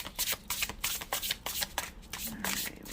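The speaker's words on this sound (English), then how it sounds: "All right, one more shuffle. It's a fairly new deck, so they are kind of stiff and a little slippery." A fairly new, stiff and slightly slippery tarot deck is shuffled by hand in quick, crisp riffling bursts, close and clear, repeating rapidly throughout with no talking.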